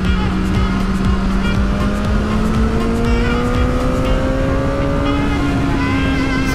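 A motorcycle engine roars steadily in third gear on a fast country road with long sweeping bends, its pitch climbing gradually as it pulls, loud and close throughout with no talk.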